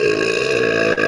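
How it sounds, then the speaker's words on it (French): A loud, drawn-out burp close to the microphone rumbles for about a second, ending in a brief break. "T'as encore roté"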